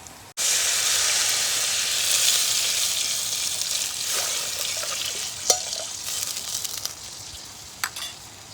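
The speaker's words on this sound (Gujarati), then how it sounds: "હવે એમાં નાખી દઈએ આપણે થોડુંક પાણી" A sudden loud hiss as water hits a hot pan of besan curry, settling into steady bubbling sizzle, with a few sharp clinks near the end.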